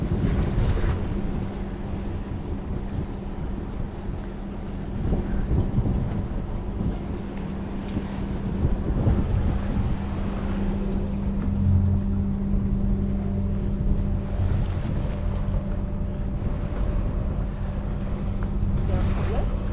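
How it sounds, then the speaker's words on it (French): Steady wind buffets the microphone with a constant low rumble on a flat sea with no swell, mixed with a faint engine hum and water movement throughout. "On a un petit peu de vent."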